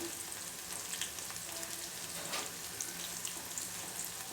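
Onions frying in a pan for a breakfast dish, with a steady soft sizzle and crackle close by, a faint watery hiss throughout and a few light clinks, no talking.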